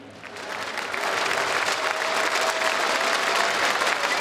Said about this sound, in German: Bitte nochmal großen Applaus für das Gewinnerteam hier.